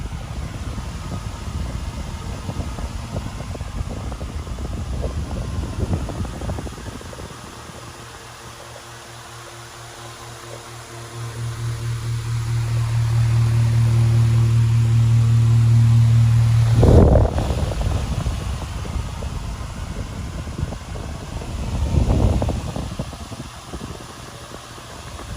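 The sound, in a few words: wall-mounted electric fan running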